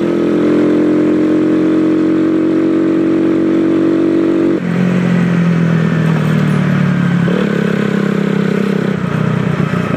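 A motorcycle engine converted to run on neat E100 ethanol runs loud and close, a continuous throaty drone whose pitch shifts a couple of times as the revs change.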